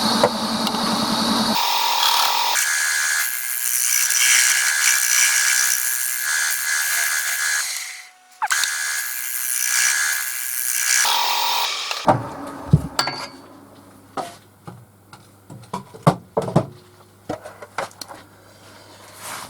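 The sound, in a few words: scraping and sanding a pitch pine bowl on a lathe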